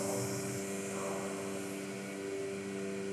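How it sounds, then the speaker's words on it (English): A vacuum pump runs on a ShopSabre CNC vacuum table, giving a steady, even drone with a constant low hum throughout, fairly loud and unchanging. "We got the vacuum pump on."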